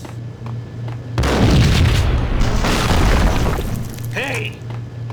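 Gunfire in Max Payne: a loud, booming volley of overlapping shots bursts in abruptly and rolls on for about three seconds, then thins out under a low hum and faint voices.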